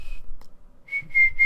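A person tries to whistle, producing a brief high whistle note, then a pause with faint breath and small noises, then several short, wavering whistle notes close to the listener.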